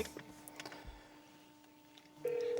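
Phone keypad tones from a handset dialing inside a Fiat 500 during a stereo upgrade, a few faint short beeps followed by a steady louder tone near the end, with a low hum underneath.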